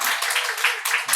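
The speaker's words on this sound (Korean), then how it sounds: "우리 미래자매가 이렇게 서약했는데 우리 박수로 환영하도록 하겠습니다." A church congregation claps briefly to welcome a new member, a short dense patter of hands, with a voice speaking over it near the end.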